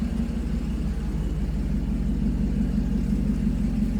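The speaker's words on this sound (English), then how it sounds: "Hear my air pump going." A small air pump runs nearby in a garage while a Mercedes R129 soft top is adjusted, giving a steady low droning hum with a constant whir that holds even and unbroken throughout.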